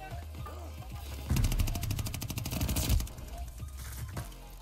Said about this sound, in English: Oh, don't shoot me, I'm trying to reload